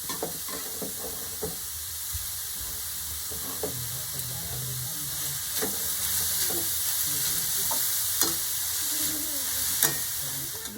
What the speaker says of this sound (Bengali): গ্রেট করা গাজরগুলোকে আমি তেলের মধ্যে দিয়ে দিলাম গাজরগুলোকে দিয়ে আমি একটু ভালোভাবে নাড়াচাড়া করে নিয়ে